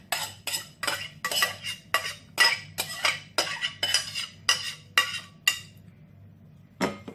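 Chocolate mousse mixture being stirred with a metal utensil in a bowl, giving a steady series of close scraping clinks in rhythmic strokes, about a dozen, then a pause and one final stroke.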